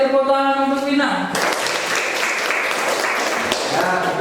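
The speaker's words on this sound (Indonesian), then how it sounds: "Tepuk tangan untuk Vina" Applause from students in a classroom for a classmate named Vina breaks out after about a second of talk, then carries on as a steady dense clatter of hands.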